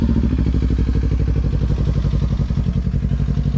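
A Kawasaki Ninja 400 motorcycle with loud pipes idles right after starting, a close, loud, rapid steady engine pulse with a rattly low throb and no voices.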